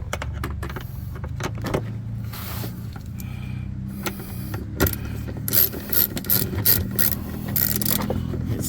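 Scraping, rubbing and clunking as a rear seat is lifted and pushed into place inside a Chevy Avalanche, with irregular close knocks and a few sharper metallic clicks toward the end.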